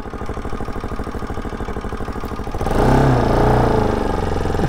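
A Bajaj Pulsar RS200 BS3 motorcycle engine idles up close with a rapid, even exhaust chug, then revs sharply into a louder, rougher roar that holds for the last two seconds.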